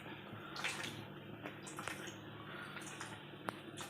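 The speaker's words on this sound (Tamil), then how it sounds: "தேங்காயை இப்படி ஒரு சலிக்கி வச்சு நல்லா வடிகட்டிக்கிடுவோம். வடிகட்டி தேங்காய் பால் எடுத்துக்குவோம்." Grated coconut squeezed through a strainer to press out coconut milk for a fish gravy makes soft, wet squishing and dripping sounds. It is quiet and close, with a few sharp clicks.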